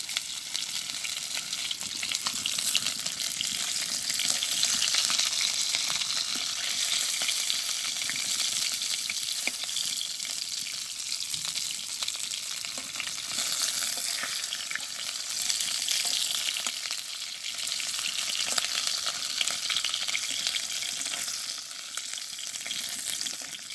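Fish frying in a pan, a dense, steady sizzle and crackle sustained for over twenty seconds with slight swells, close by and without speech.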